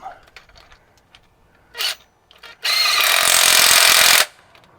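A power tool cleans out a bolt hole on a Kenworth Aerodyne truck, with a short buzz first and then a loud, close, sustained grinding whir lasting over a second amid faint clinks.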